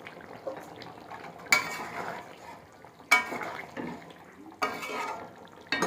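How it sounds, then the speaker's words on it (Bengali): Spices for a chicken curry fry in a pan as a spoon scrapes and stirs them in three clear rounds of metallic scraping, close and moderately loud, with quiet sizzle between. "এবার মশলাটাকে ভালো করে কষিয়ে নেব।"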